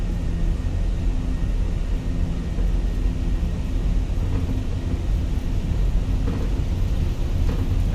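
An Airbus A320 with IAE engines on its takeoff roll in Microsoft Flight Simulator 2020, a steady loud engine roar and rumble that holds constant for the whole stretch with no talking.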